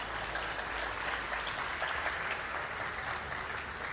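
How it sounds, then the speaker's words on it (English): Audience applause for speaker Annabelle Williams at a leadership event: steady, moderately quiet clapping from a crowd throughout, with no talking over it. "please give a big applause for Annabelle Williams"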